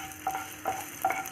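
Steady frying sizzle of chopped garlic in melted butter, with a few soft bursts as it is stirred in the pan, close by, no talking.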